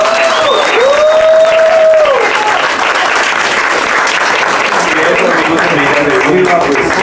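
Sustained audience applause fills the room steadily at a live storytelling event, loud and continuous, with whistles or cheering voices rising over the clapping near the start and again toward the end.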